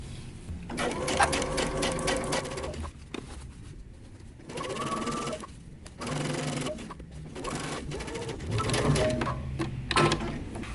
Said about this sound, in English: So use the longest stitch available on your sewing machine.